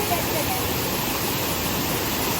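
The Chooramunda waterfall in Kerala pours in a steady, loud, broadband rush of falling water, continuous and unbroken with no talk over it.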